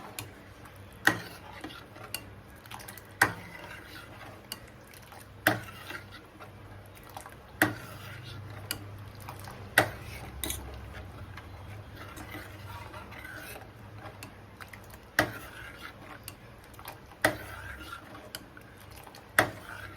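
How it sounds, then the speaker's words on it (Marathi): Rava kheer in a pot being stirred with custard powder and milk, a spoon ticking against the metal in steady, regular knocks about every two seconds over a low background hum. "आता ही सगळी याच्यामध्ये घालून देते. छान मिक्स करते."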